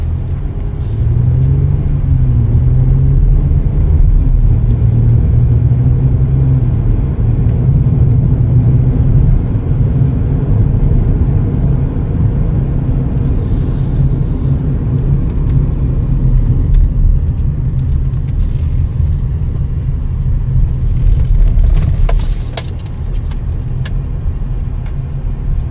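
A 2021 Chevrolet Colorado Crew Cab LT drives along, heard from inside the cab as a steady, loud engine and road rumble that eases slightly near the end, with no talking.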